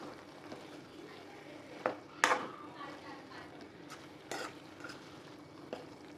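Mushrooms are stirred into masala in a pan on a medium flame, giving soft scraping and sizzling with a few sharp spoon-on-metal knocks, close and moderately loud.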